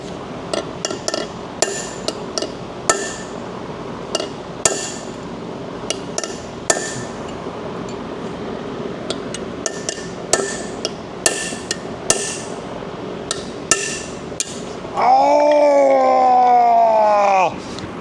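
Repeated sharp hammer blows on metal while working on a 2015 Chevy Tahoe 5.3 fuel injector, irregular and close, then a loud pained groan near the end.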